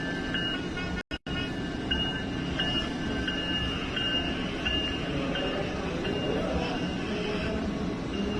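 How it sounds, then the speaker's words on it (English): A Christmas train rolls past steadily and close by, a continuous rumbling wash of wheels and cars with a faint high squeal, broken once by a brief dropout. "Christmas train, yep."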